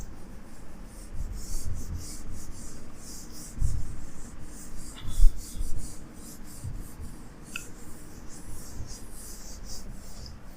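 An eraser rubs writing off a classroom board during a maths lesson, making a soft, steady scratchy wiping that runs for several seconds at close range, with a few slightly louder strokes midway.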